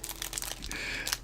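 A plastic bag crinkles and rustles steadily as small Tamiya 1/14 scale RC truck kit parts for a Volvo FH12 are pulled out, close and continuous, with no voices.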